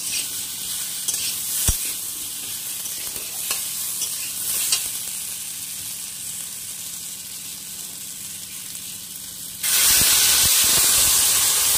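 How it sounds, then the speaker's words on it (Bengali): Shukto vegetables sizzle and hiss steadily in a pan while being stirred with occasional clacks, then a louder, brighter rush of hissing steam erupts near the end as milk and water are poured in. "নিয়ে এখন এর মধ্যে দিয়ে দেব 1 কাপ পরিমাণে দুধ ও 1 কাপ পরিমাণে জল"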